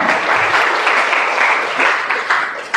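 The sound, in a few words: applause for Muhammad Ihsan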